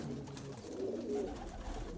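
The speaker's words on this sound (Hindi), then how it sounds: "कुके भैया प्लीज अपने कबूतरों का शो करवाएं हमें।" Soft, low coos from Kasturi Dub pigeons murmur continuously, fairly faint against a light background hiss.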